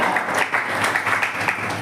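A church congregation at Sunday worship claps hands together, a dense, steady burst of applause filling the room, continuous for the whole moment with no talking over it.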